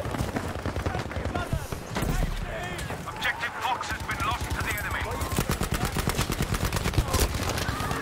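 Rapid gunfire crackles through a video game played on a 2019 HP OMEN 15t laptop: dense bursts of close, sharp shots repeating steadily, with voices talking over them.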